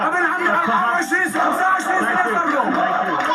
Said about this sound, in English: This is a crowd here of perhaps several thousand people.